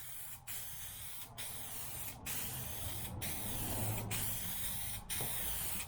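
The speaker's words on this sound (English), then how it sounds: "Like, again, the can is very heavy to spray." Continuous spray-paint-can hiss while painting a motorcycle, steady and fairly close, broken by about six brief pauses in a regular rhythm as the nozzle is released and pressed again.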